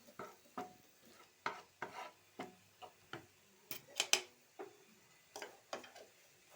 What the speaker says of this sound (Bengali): দিয়ে এটা 2-1 মিনিট ভালো করে নাড়াচাড়া করছি।